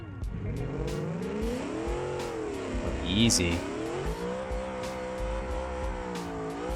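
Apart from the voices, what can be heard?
truck burnout with tire squeal in BeamNG video game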